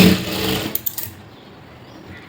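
A sewing machine running a stitch on a blouse, a steady close whir for about a second before it cuts off into quiet, with a brief knock at the end.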